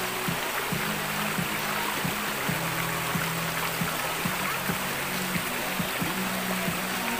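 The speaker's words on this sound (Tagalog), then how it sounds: "Ang ganda ng ambience ng batis." A brook flows steadily with a broad wash of running water, punctuated by small gurgles and splashes at irregular intervals, close and continuous with no talking.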